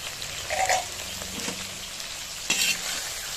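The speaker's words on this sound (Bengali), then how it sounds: "দিয়ে হালকা নেড়ে চেড়ে আর একটু ভাজতে হবে।" Okra (bhindi) frying in an uncovered pan and being stirred lightly, cooked for a katla fish curry made without onion or garlic. A soft, continuous sizzle carries a few sharp stirring scrapes.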